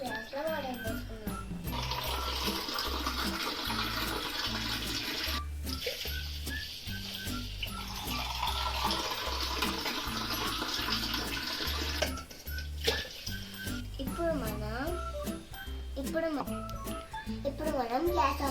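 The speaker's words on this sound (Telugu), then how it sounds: "2 గ్లాసుల వాటర్ పోసుకున్నాం." Water poured onto washed rice, two glasses to one glass of rice, in a home kitchen before cooking, a steady splashing pour under continuous music with a voice talking over it.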